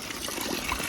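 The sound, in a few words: mountain water flowing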